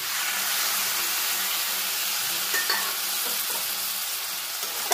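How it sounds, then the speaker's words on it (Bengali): Vegetables sizzle in a pan after a little water is added, with a continuous loud hiss and steam and a few soft scrapes of stirring, close and with no talk. "এবার এর মধ্যে আমি অল্প একটু জল অ্যাড করে দেবো"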